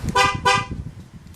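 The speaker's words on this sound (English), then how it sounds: "If you leave your door open and you try to lock the alarm, you get 2 honks because the door is open." A Ford F-150 horn sounds two short, loud honks close by as an alarm warning for a door left open, each burst sharp and evenly spaced, with a faint engine idle underneath.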